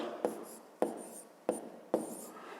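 Handwriting on paper while working a fifth-grade math exercise: four quiet, evenly spaced scratchy pen strokes, each a short sharp scrape that fades quickly, with no talking.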